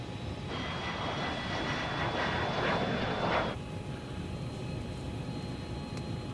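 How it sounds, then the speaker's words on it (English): A propeller airplane engine drones steadily throughout, an even, moderately faint roar that shifts slightly in tone partway through, with no voices over it. "I can fly this plane sometimes"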